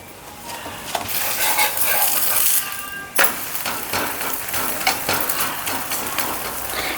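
Telangana bakshalu flatbread cooking on a hot pan, a steady close sizzle and crackle running throughout, with a few scrapes and clinks of a utensil and a brief pause before the frying noise picks up again.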